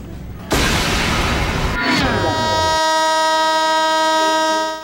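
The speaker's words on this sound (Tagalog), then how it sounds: "malakas na busina ng barkong BRP Pampanga" Loud horn of the Philippine Navy ship BRP Pampanga sounding during an Independence Day celebration: a rumbling burst, then a long, steady, deep blast that holds to the end.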